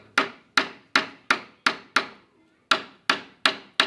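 A hammer strikes a chisel driven under a board of pallet wood, nine sharp, evenly spaced blows with one short pause partway through, close and loud with no talking.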